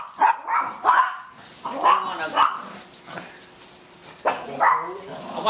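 Puppies bark and yip in short high bursts mixed with little whimpers, fairly close, while people talk over and between the barks.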